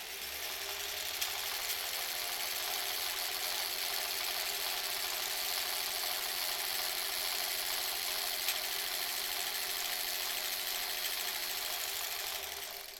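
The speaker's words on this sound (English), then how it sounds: "sewing that whole thing at once" A home sewing machine runs steadily through a long stretch of face-mask sewing, a close, even mechanical whir with a constant motor hum from start to finish and no voices.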